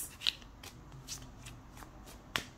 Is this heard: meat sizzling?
no